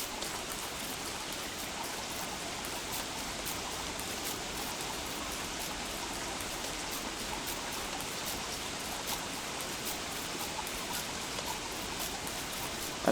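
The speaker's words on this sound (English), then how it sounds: "It's hard to dry when it's raining." Steady rainfall in the Don't Starve video game, a continuous even hiss of raindrops that holds the same level throughout without any pauses or talking.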